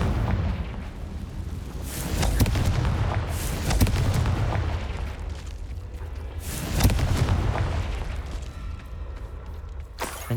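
Explosions from the Confringo spell in the video game Hogwarts Legacy, several deep booming blasts with rumbling tails at roughly two-second intervals, loud and close.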